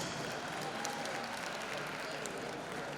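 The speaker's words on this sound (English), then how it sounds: "Let's give him a huge round of applause." Dense, sustained applause from a large crowd at the opening ceremony of a volleyball championship, steady and even for the whole stretch, heard from a distance with a faint murmur of voices.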